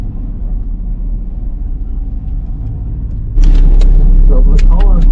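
A Nissan 370Z on an autocross course at a national tour event rumbles past, first as a low engine drone and then suddenly louder and closer, with a commentator's voice heard over it.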